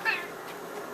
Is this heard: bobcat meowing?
yes